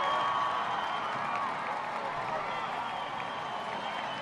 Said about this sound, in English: The fans are cheering, thinking it was an equalizer